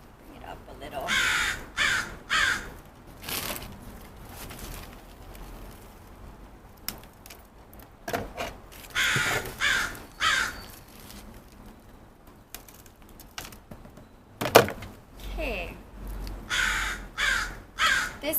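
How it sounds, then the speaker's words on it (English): A crow perched in a tree caws repeatedly in short bursts of two or three harsh calls, fairly close and loud, against a quiet garden backdrop with faint rustling. "This bird just won't stop."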